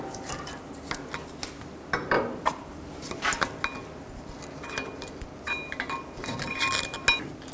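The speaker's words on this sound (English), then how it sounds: "Take the brake pads off" Metal brake pads scrape and clink as they are pried off a front brake caliper on a 2007–2011 Honda CR-V with a screwdriver, giving scattered close metallic taps and clicks with no talking.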